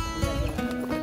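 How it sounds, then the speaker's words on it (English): A horse in Viñales, Cuba is close by, with soft hoof clops and snorting or whinny-like sounds over a steady low rumble. "This is my horse, Caramelo."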